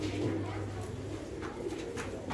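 Pigeons kept for sale in Bangalore coo steadily at close range, a soft throaty purring that carries through the whole moment over a busy, noisy background.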